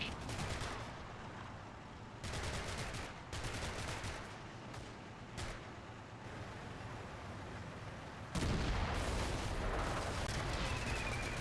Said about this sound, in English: We spend about 45 seconds ping-ponging AP shells off of the Panther until the crew dives out